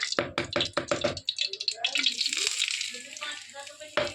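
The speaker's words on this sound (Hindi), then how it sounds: "इसमें डालूंगी मैं धनिया, उसे रोस्ट करूँगी मैं अच्छे से" Coriander powder roasting in ghee in a kadhai for a Janmashtami offering, with a steady sizzle and crackle, preceded by several sharp knocks of a spoon against the pan, near and fairly loud.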